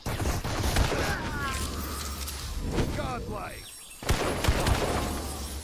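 Bursts of the GMS 622 gun firing in the shooter Blitz Brigade, rapid loud volleys that break off briefly and then resume, with a voice talking over them.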